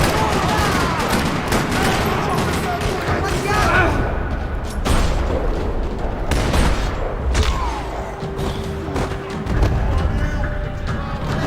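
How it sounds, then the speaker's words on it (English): Gunfire in a parking lot in the Max Payne video game, dense rapid bursts of shots and thuds rattling loudly and continuously, with spoken lines mixed in among the fire. "Another parking lot rattling with gunfire."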